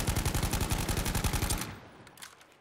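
An automatic gun fired at a wall in a video game, a loud, rapid burst of shots in even rhythm lasting about a second and a half, then cut off and followed by faint reload clicks.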